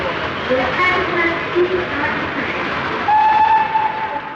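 The Elizabethan steam express pulls away from a London platform bound non-stop for Edinburgh in 1954, with a rumbling chug under a long steady whistle near the end; background voices murmur faintly.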